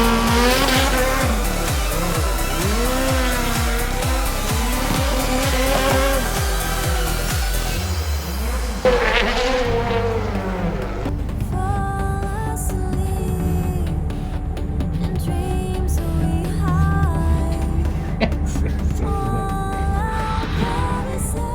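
A Subaru WRX STI rally car spins on a gymkhana course with tires squealing, the engine revving and braying in rapid bursts, then continuing loud and close as it slides and skids.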